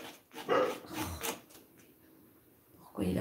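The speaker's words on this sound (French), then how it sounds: "pourquoi il aboie?" A dog barks a few times in short bursts, fairly close, in an indoor home setting, with quiet background between the barks.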